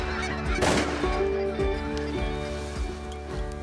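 Specklebelly geese honk during a waterfowl hunt in Alberta, a chorus of nasal, repeated calls from a flock overhead, with one strong burst near the start and steady honking continuing after it.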